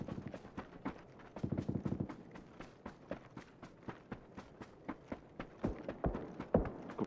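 Rapid footsteps in a multiplayer video game, a brisk run of close, sharp, evenly spaced steps that quicken and cluster at times, with faint talk in the background.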